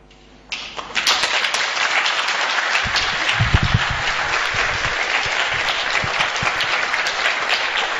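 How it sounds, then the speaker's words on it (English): An audience at a chemtrails symposium in Belgium bursts into sustained applause, a dense wash of clapping that starts abruptly and carries steadily throughout with no talk. "we owe a big applause"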